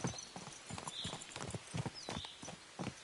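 Horse hooves clip-clopping at a steady walking rhythm on a road in the medieval game Kingdom Come Deliverance 2, close and clear, with faint bird chirps in the background and no talking.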